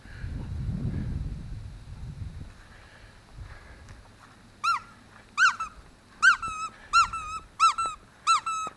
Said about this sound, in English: That's dog talk.